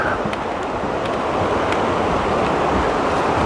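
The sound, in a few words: Peabody River flowing under suspension bridge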